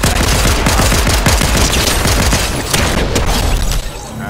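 Dense, continuous automatic gunfire in the Fortnite video game, with rapid bursts and booming shots packed together at close range, loud and sustained throughout.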